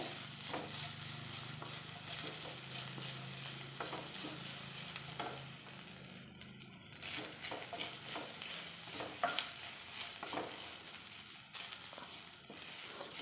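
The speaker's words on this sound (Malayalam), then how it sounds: "അപ്പോൾ നമ്മുടെ ഈ നെയ്ക്കകത്ത് കിടന്ന് ഈ തേങ്ങ ഒന്ന് ജസ്റ്റ് ഒന്ന് നമുക്കൊന്ന് മൂപ്പിച്ചെടുക്കാവേ" Grated coconut fries in ghee for a pumpkin sweet, giving a continuous soft sizzle broken by the repeated scrape and clatter of stirring in the pan, close and steady with no talking.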